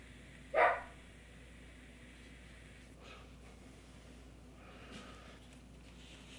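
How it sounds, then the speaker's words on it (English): A single sharp dog bark comes early against a quiet room background, followed by several seconds of low hum with only faint, indistinct noises. "also my dog just keeps barking and barking and barking."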